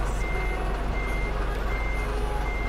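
Steady electronic reversing beeps from a truck backing up in Euro Truck Simulator 2, heard over a continuous low engine rumble during an accident-recovery job, with no talking.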